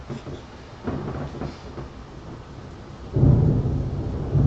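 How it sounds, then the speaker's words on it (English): Deep rolling thunder during a thunderstorm, rumbling low and steady, then swelling into a louder, closer roll near the end, with rain faintly underneath. "Oh yeah, that's some good thunder."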